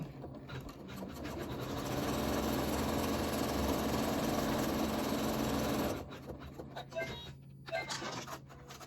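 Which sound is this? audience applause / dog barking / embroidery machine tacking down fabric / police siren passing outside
embroidery machine tacking down fabric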